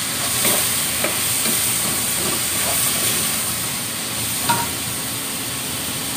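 Mushrooms fry in a pan with a constant loud sizzle and hiss while a utensil stirs them, giving a few soft scraping clicks scattered through the steady frying noise.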